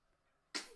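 A baby's single short, sharp sneeze bursts out after near silence, close and fairly loud.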